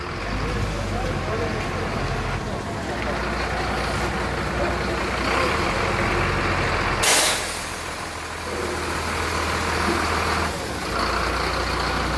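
A big truck rumbles close by at a truck wash, a loud continuous low engine drone with a sharp hiss of air brakes partway through, while a person talks over the noise.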